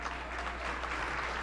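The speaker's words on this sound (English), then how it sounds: "give a big round of applause to my good friend" An audience at an arts gala applauds in a dense, even wash of clapping from many hands, continuous and moderately loud throughout the short stretch, with no speech over it.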